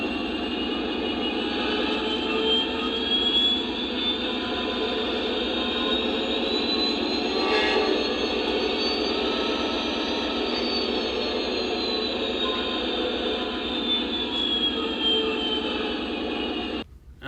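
A Lionel Legacy F40PH model locomotive plays its diesel engine sound effect with the RPM raised, giving a loud, continuous revving drone with a slowly rising whine that holds steady and then cuts off abruptly.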